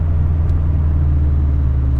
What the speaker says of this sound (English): I have always been a fan of that Subi Rumble, and this car does not disappoint me at all.